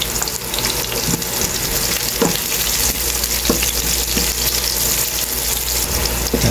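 Onions fry in a pan with ginger for squid adobo in coconut milk, a loud continuous sizzle with occasional stirring clatters and no talk.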